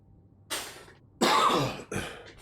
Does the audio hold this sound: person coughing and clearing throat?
yes